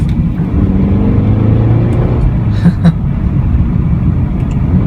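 A 2014 Mercedes-Benz CLA250 on a road test gives a steady, loud engine and road rumble that builds under acceleration, then a short downshift blip; a voice is faintly present.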